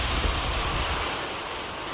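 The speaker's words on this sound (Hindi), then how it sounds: "अब खूब देख रहे हैं बाहर जाकर के तो झमाझम बारिश हो रही है" Heavy downpour outside a house, falling steadily after a sudden storm with strong wind: a dense, continuous wash of rain noise, loud and unbroken throughout, with no voices.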